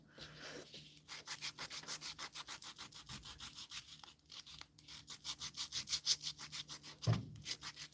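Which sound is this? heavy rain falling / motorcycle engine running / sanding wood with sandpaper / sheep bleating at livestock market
sanding wood with sandpaper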